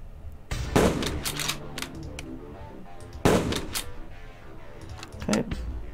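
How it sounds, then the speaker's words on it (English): Three loud, booming shots from a Boys anti-tank rifle fired in the World of Guns game, spaced a couple of seconds apart, each with a sharp crack and ringing decay, followed by mechanical clicks. "fire a couple shots off"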